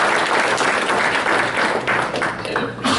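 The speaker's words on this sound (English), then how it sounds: "Let's give him a warm welcome applause." Audience applause fills the room as a self-storage expert is welcomed onto the stage, a dense, loud, continuous clapping from a crowd that sustains for the whole stretch.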